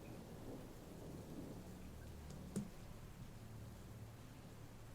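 A thunderstorm with steady rain hissing throughout, one short sharp crack of thunder near the middle, and low rumbling underneath, heard at a distance and fairly faint.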